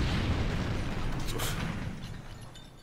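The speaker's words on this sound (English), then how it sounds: "It wouldn't be Chapter 5 without an explosion. It exploded." An explosion from a door trap in the video game Danganronpa V3 gives a loud, dense low-frequency boom that holds steady briefly and then slowly decays.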